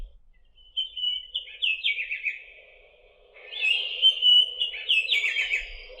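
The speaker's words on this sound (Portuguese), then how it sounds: "começou o som dos pássaros" Birdsong alarm tone playing from a Wi-Fi lamp, radio and clock with Alexa and Google Assistant voice control: two bursts of bright chirping and trilling notes, clear and fairly close, separated by a short pause, with no voices.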